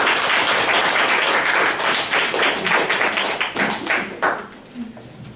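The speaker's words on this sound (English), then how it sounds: "This is the place where the applause is appropriate." An audience applauds after a closing speech in a campus carry debate, with dense, steady clapping that thins out and fades over the final second, without any talk.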